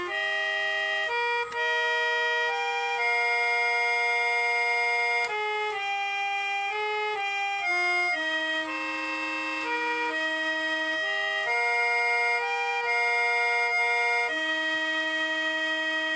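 A reed instrument plays a slow, sustained melody of held tones imitating a Japanese music siren. It is clear and continuous, with no talking.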